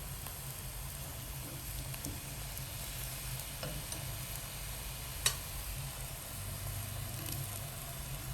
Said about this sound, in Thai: เราผัดให้เข้ากันค่ะ ผัดให้เข้ากันนะคะ